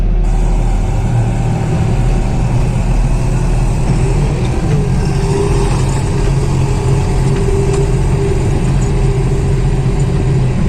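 A New Holland T4.70S tractor engine held steady at 1600 rpm in third gear, crossing a cloddy field, giving a loud, constant diesel drone with no voices over it.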